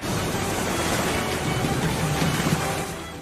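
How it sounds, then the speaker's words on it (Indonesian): Big ocean waves churn around a paddled rubber boat at night, a loud, dense, continuous wash of surf and rushing water filling the scene. "terus mendayung di tengah kegelapan ombak yang besar"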